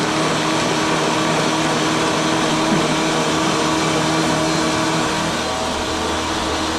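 A blender blending peanut porridge whirs loudly and continuously at close range, a steady high-pitched motor drone that holds without pause.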